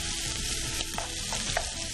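Squid rings with flour and garlic fry in a hot pan for a fisherman's pasta. The sizzle is loud and continuous, with soft stirring scrapes and small pops close by.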